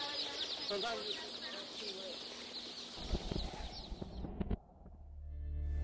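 Dense chorus of chicks chirping at a hatchery as workers roughly sort them, continuous high peeping that gives way to clattering handling noises and machinery thumps near the end, with no talk.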